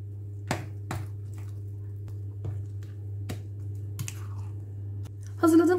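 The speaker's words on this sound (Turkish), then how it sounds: "Karıştırmaya devam ediyorum." A spoon mixes a walnut cake batter in a bowl, giving sparse, faint clicks and scrapes at irregular intervals over a steady low hum, with a brief louder clatter at the end.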